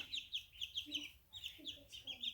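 A flock of chickens cluck in short repeated bursts, with higher calls over lower clucks, fairly close and at moderate volume, with no voices.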